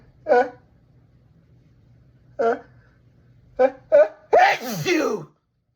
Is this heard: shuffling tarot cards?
no